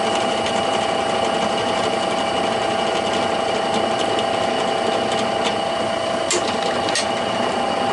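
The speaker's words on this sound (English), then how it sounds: "So we have the drill press set up, all ready to go" A drill press drilling a small metal piece with a 1/8 inch bit, making a steady, continuous mechanical whir with a constant tonal hum and faint irregular scraping ticks, close and alone.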